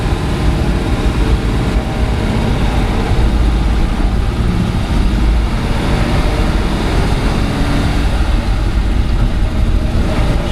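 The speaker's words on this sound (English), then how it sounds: "The engine runs fantastic." Fully restored 1936 Ford pickup truck engine running during a ride, a loud, steady low rumble with road and wind noise throughout, no talk.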